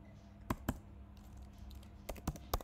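Computer keyboard typing a code comment during a C programming lesson on integer constants, heard as a few sharp separate keystrokes and short clusters over a low hum, close and moderately loud.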